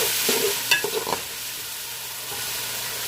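Tomatoes being stirred into ginger and garlic frying in a pan for egg biryani, a soft sizzle with a few scraping, clattering stirs of a spoon before the frying hiss settles, close and alone.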